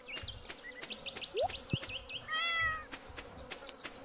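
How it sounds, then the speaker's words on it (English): Pet cat in the video game Stardew Valley, with a short synthesized meow sliding up, surrounded by chirpy game bird and insect tones and soft bloops, fairly quiet overall. "He stalks and hunts and stuff just like a normal cat."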